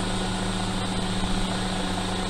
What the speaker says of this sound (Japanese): ヘリの薬剤散布やってたんで